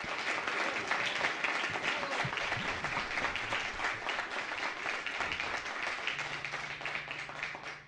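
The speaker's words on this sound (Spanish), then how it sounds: "Un aplauso enorme para recibirlo." Audience applause at a guitar festival in Argentina, a dense, steady wash of clapping from a large crowd welcoming a trio to the stage, loud and continuous throughout before easing slightly at the very end.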